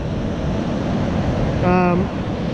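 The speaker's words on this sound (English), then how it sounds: "you can see the waves are breaking." Surf breaking at a beach at Moruya on the New South Wales south coast, a steady broadband wash that swells slightly near the end, with a brief tonal sound passing through.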